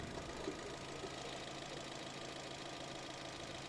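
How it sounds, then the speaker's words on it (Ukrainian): The 1.8-litre petrol engine of a 2011 Opel Zafira B idles evenly and quietly, a steady low hum with faint mechanical ticking throughout. "Робота двигуна рівна,"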